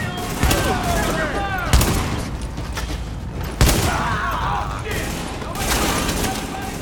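Guns blind-fired in The Division crackle in sustained bursts with a few sharper close shots, loud and continuous, while people talk over the gunfire.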